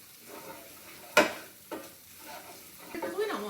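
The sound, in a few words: stirring sausage gravy in a pan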